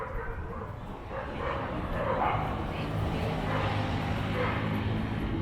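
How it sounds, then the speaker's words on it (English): Dogs bark and yip on a street in Mexico, a mid-distance chorus of short barks running steadily under outdoor background noise. "You see the perros, the dogs."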